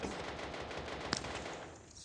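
Rapid automatic gunfire in a video game, a loud continuous burst of fast shots with one sharper crack near the middle, heard alone with no talk.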